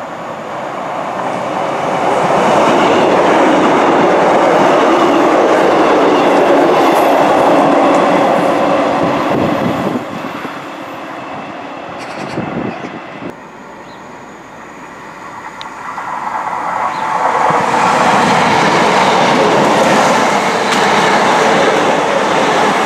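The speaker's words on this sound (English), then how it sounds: "it should be a pair of Class 156 DMUs passing through here" A pair of Class 156 diesel multiple units rumble loudly past Drumry Station, a long roaring pass with rattling wheels that eases briefly, then swells again as another passes close by.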